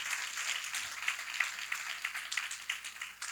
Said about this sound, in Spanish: eso sí se merece un buen aplauso